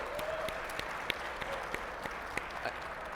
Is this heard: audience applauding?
yes